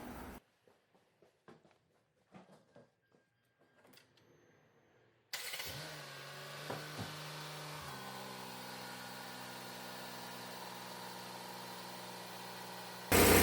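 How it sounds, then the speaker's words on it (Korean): After a few quiet clicks and handling noises, a car engine cranks and starts, then settles into a steady, even idle during coolant replacement and air bleeding, close and moderately loud. "자, 이제 시동 걸고 에어가 빠지는 모습을 볼 수 있을 거예요."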